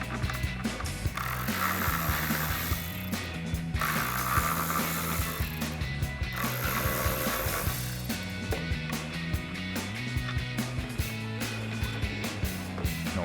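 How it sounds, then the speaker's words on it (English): Ratchet wrench fitted with a T20 Torx socket backing out screws on a 2019-2024 RAM 1500 headlight assembly, with steady clicking pawl bursts running close and loud throughout and no talk. "grab yourself a T20 Torx socket and we'll pop all those out and transfer it over"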